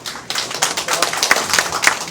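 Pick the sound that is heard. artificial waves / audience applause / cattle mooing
audience applause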